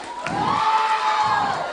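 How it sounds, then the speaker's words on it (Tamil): An audience at a film teaser launch for Arun Vijay breaks into cheering and clapping, a loud, close burst of crowd noise with whoops and a sustained ringing tone over it. "ஒரு நல்ல கைத்தட்டல் கொடுத்துடலாம்"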